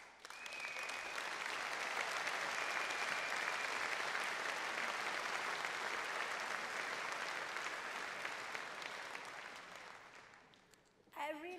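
A large audience at a company anniversary showcase applauds steadily and fairly loudly for several seconds, slowly tapering off before a voice briefly comes in at the end.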